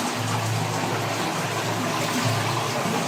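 Clear water rushing steadily at the dead end of a stream, a continuous close splashing flow with no break and no voices over it.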